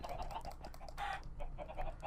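Several blocky chickens cluck in a Minecraft FTB modpack, short repeated clucks and squawks at moderate volume with a brief louder burst midway, no speech.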